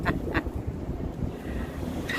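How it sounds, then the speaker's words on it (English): Parrots call outdoors, giving two quick harsh squawks close together and then another near the end. A faint rustle of wind runs between the calls. "You hear that? That's the parrots."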